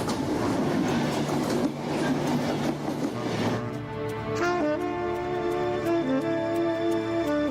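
A train rumbles loudly along the rails in Wallonia, Belgium, its broadband roar giving way to steady tonal whining and hum as it continues past.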